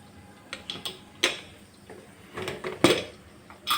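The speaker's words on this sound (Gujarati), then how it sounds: "હવે આપણે કુકર ખોલી લેશું" A pressure cooker holding sambhar rice is opened, with a few sharp metallic clanks and a lid scrape and click spaced irregularly, close and fairly loud over a quiet background.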